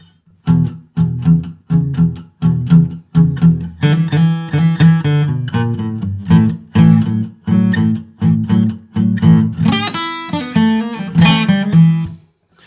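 A solo acoustic guitar plays a bluesy lick of plucked notes and slides in a loose, repeating phrase, close and clear with no voices.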